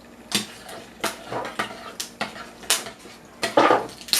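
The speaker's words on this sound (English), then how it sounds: "you want to make sure you mix that all around" Cherry crumble cake batter being mixed in a bowl, a rhythmic series of close scraping clinks and knocks of utensil against bowl, roughly two per second, moderately quiet.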